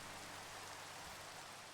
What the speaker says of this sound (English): we made it back to town. Where it has started raining.